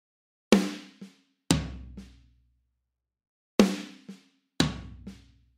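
Drum fill on a kit played alone: four sharp hits in two pairs, each a strong stroke followed by a softer one, snare accents with quieter ghost notes and a booming floor tom ringing underneath, close and clear.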